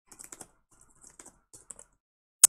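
Typing on a computer keyboard, bursts of quick light key clicks in uneven clusters with short pauses between, ending in one louder sharp keystroke, close and quiet, no speech.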